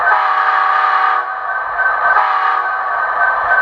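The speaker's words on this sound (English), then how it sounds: "The horn is very nice, typically American." An HO-scale model Union Pacific SD-70 diesel locomotive horn, American-style, blares in two long, steady blasts with a brief dip between them, loud and close, with no other sounds.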